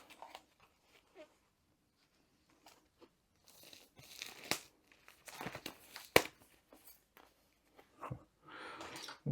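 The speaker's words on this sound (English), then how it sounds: "First thing I have to do is remove the cellophane." Cellophane wrap being peeled off a diamond art canvas, heard as scattered crinkles and tearing crackles in short bursts with quiet gaps, fairly close.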